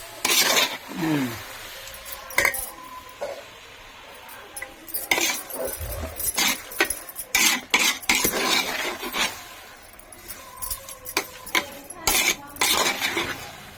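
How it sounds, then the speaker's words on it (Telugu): Vermicelli and sugar stirred in a pan for a Ramadan semiya sweet, with repeated scraping and clinking of a spoon against the metal in uneven bursts over a faint sizzle. "బాగా చక్కెరంతా తేనె పట్టేదాకా బాగా కలుపుకోవాలి"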